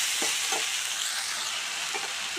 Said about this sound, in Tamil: இப்போ நம்ம கட் பண்ணி வச்சுருந்த பீன்ஸை சேர்த்துப்போம். நல்லா கலந்து விட்டுடுவோம்.